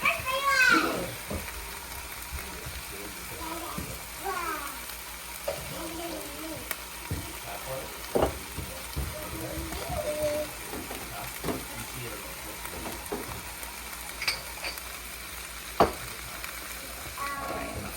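Food frying in butter in a home kitchen pan, stirred now and then, a steady soft sizzle with scattered scraping clicks, children chattering and playing in the background.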